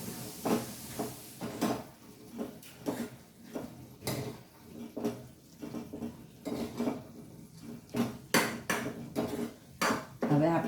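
Bitter gourd curry being stirred in a metal pan, a spoon scraping and clanking against the sides in repeated close, uneven strokes with no talking.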